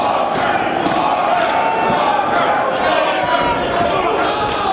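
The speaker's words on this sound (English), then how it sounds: "the crowd chanting Walker" A wrestling crowd chants for Wardell Walker in an arena, a loud rhythmic mass of voices with thuds and shouts, a commentator talking over it.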